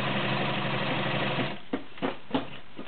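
A pristine white Model 618 B sewing machine runs in a smooth, steady whir, then slows and stops. A few soft clunks of the mechanism follow as it settles.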